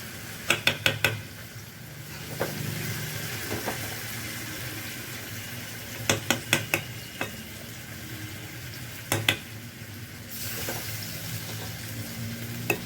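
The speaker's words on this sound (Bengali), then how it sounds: "এবারে আমি মশলাটাকে খিচুড়ির সাথে মিশিয়ে নেব।" Spices being stirred into khichuri in a pot, with a steady low sizzle and bubbling beneath clusters of sharp spoon-on-pot clinks and scrapes recurring through the stir.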